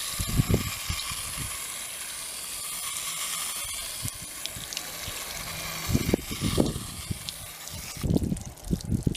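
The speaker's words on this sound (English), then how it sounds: "First rinse of sunflower seeds, this is what they look like." Hulled sunflower seeds grown for microgreens are rinsed with water: several short gushing spray bursts rise over a constant soft hiss, and each burst is close and moderately loud.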